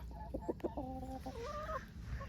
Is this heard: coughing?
no